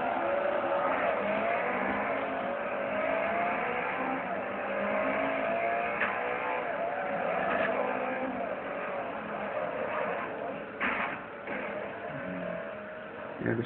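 A car engine in Forza 3 revs hard and continuously while drifting, its pitch climbing and sliding as the throttle is worked, with faint tire squeal and a short stutter toward the end.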